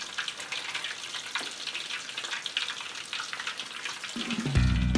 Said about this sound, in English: drop tablespoonfuls into our grease